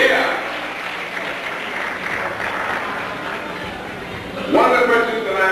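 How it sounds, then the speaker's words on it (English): An audience claps for five pageant contestants at the 1989 Black and Gold Pageant, a steady loud wash of applause with crowd noise, and a voice cuts in near the end. "How about a nice round of applause for all five of the contestants for the Black and Gold Pageant"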